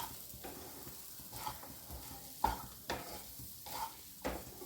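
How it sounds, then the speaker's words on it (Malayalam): Fried masala chicken is stirred into a lunch dish in a pan, quiet soft sizzling under several distinct scraping strokes of a spoon, spaced roughly a second apart, with no speech. "ആ ചിക്കനും കൂടെ നമ്മളിതിലേക്ക് ആഡ് ചെയ്ത് കൊടുക്കുക. ഇനി നന്നായിട്ട് എല്ലാം കൂടെ മിക്സ് ചെയ്യുക."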